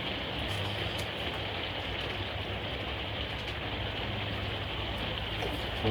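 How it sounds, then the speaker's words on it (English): Steady, dense hiss of heavy rain pours continuously, with a low engine hum running underneath throughout. "I definitely think it's raining."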